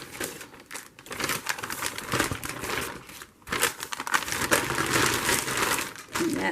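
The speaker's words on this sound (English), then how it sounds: "Sorry for all the crinkling." Plastic packaging from a Temu haul of crafting supplies crinkles and rustles near the mic, in bursts of handling with a short pause midway and no speech.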